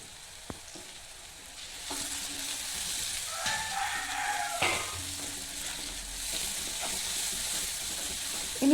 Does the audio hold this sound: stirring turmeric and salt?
yes